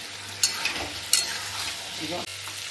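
Soybean and potato chunks sizzle steadily in hot oil in a pan while being stirred, with sharp scraping clicks from the stirring cutting through the even frying hiss.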